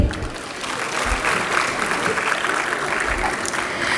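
Audience applauding a team at a school carnival and investiture ceremony, steady clapping throughout with a faint murmur of voices.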